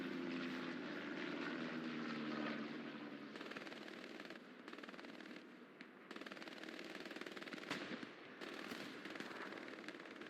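Aircraft roar through a bombing run in a World War II battle game set at Kharkov, a steady loud propeller drone with rattling bursts and booming impacts layered over continuous battlefield noise.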